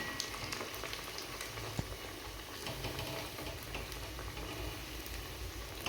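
Banana flower vadai fry in hot oil with an even, bubbling sizzle that holds steady throughout, low and fairly soft, with no talking.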